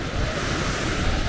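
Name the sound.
big ocean waves at Alleppey beach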